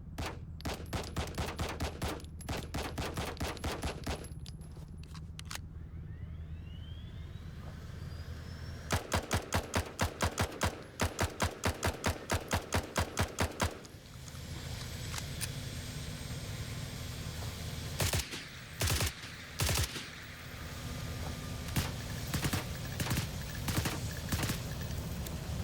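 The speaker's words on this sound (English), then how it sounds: "the guns sounding like totally different things between first and third person" Rapid automatic gunfire from the game Blackhawk Rescue Mission 5 rattles in dense, loud bursts over a steady aircraft engine drone, with sustained fire at the start and middle and scattered single shots later.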